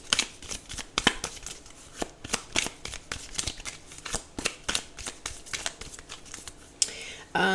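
Tarot cards shuffled in a run of quick crisp riffles and flicks close by, ending in a louder brisk burst of card snaps.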